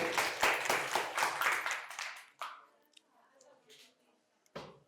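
Loud clapping from an audience at a pharmacy college quiz competition, a dense burst of hands lasting about two seconds before fading into quieter room noise, with one more sharp clap near the end.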